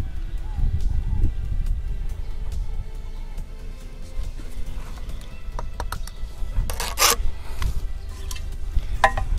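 Bricks and blocks are laid onto a mortar bed with soft scraping, rubbing and slides of mortar and occasional sharp taps and clicks, all close and fairly quiet against a faint outdoor background.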